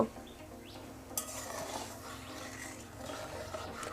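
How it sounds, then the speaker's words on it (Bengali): Semolina is stirred into hot salted water in a pot to form a dough, producing soft, faint scraping and stirring sounds with light clinks against a quiet background hum. "এভাবে নাড়াচাড়া করে সুজির ডোটা প্রথমে তৈরি করে নিতে হবে"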